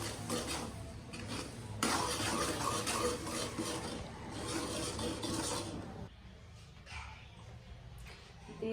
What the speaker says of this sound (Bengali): মরিচের গুঁড়া, হলুদের গুঁড়ো দিয়ে ভালো করে মশলাটা কষিয়ে দিচ্ছি